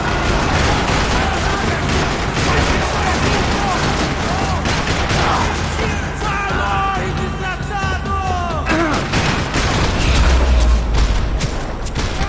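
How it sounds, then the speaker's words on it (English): Gunfire rattles through a parking lot shootout in the video game Max Payne 3, dense overlapping bursts and single shots with booms and distant yelling over a loud, busy background throughout. "Another parking lot rattling with gunfire."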